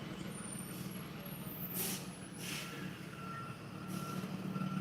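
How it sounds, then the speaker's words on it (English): Truck driving past, a low, steady rumble with hissing air brake bursts and high beeps partway through, fairly faint and continuous throughout. "I'll pause till that truck gets by."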